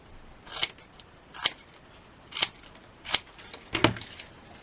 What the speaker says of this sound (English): I'm just going to cut them into some